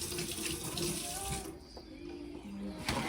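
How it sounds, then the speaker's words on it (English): Water runs from a kitchen tap as hands are rinsed under the stream, a steady splashing rush that changes briefly as the hands move, then the flow is cut off near the end. "So I'm gonna rinse my hands really quickly."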